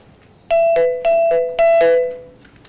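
A doorbell rings three times in quick succession, each a loud, clear two-tone ding-dong chime, close and alone with no talk.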